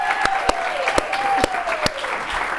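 An audience claps in sustained applause, dense and fairly loud, with a few sharp individual claps standing out and a tonal whistle-like line running underneath.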